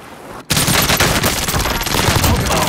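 Heavy gunfire in a battle royale video game bursts in suddenly after a short quiet, then keeps going as loud, dense rapid automatic fire with no break.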